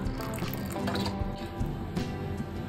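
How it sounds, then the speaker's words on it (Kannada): Water is poured into 50 grams of oats in a kitchen, a close, gurgling, splashing trickle with small drips and wet squishes that runs steadily for a few seconds. "ಇದಕ್ಕೆ ನೀರು ಹಾಕಬೇಕು"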